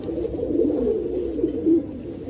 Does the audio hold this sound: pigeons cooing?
yes